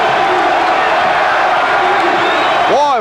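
Basketball arena crowd of over 6,100 roaring and cheering late in a close Duke versus Miami game, a loud sustained wall of cheers with whoops and whistles throughout.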